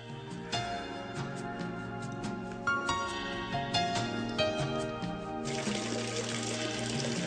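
Water flows steadily through an ancient underground aqueduct channel, a continuous rushing wash that runs the whole way, overlaid by a tonal musical bed.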